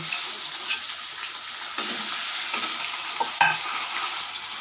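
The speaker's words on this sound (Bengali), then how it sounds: "এবারে আমি মাছগুলো ভেজে নেব" Pomfret fish pieces frying in hot oil, a constant bright sizzle with a few sharp spatters and stirring knocks, alone without talk.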